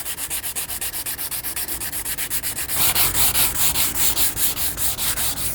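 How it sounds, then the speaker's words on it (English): Sandpaper rubs rapidly back and forth across fiberglass in a steady rhythm, growing louder and harsher midway, close up with no talking. "Now I'm sanding an area this big"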